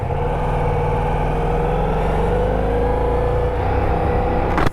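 A 2023 Ducati Diavel V4 motorcycle is ridden at a steady pace, its engine drone loud and continuous with rushing wind, a slight rise in pitch near the end.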